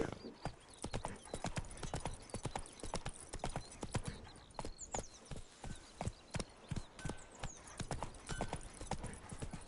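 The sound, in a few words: horse hooves clip-clopping in the video game Witcher 3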